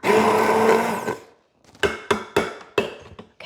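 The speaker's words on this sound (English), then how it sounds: "you just want to blend this until it's nice and smooth" Apple butter is pureed in a blender with a steady whirring motor for about a second. The motor winds down, followed by four sharp knocks or taps at even intervals.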